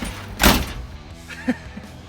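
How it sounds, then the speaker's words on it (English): A single heavy truck door thud near the start, followed by a quieter clunk about a second later, close and brief; the door closes poorly. "this door doesn't like to close."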